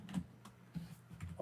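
A computer keyboard typed on in short bursts, with a few soft, close keystrokes spaced irregularly at a low level.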